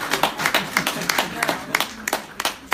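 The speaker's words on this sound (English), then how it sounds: "Guys, please, round of applause for him." A small audience at a youth leadership forum claps in a short round, distinct uneven hand claps close by with light crowd murmur and some talking underneath.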